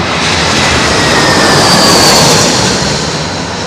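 Jet airliner arriving low overhead at London Heathrow, a loud, steady broadband engine roar swelling to a peak mid-pass and easing slightly as it goes over, with no voices.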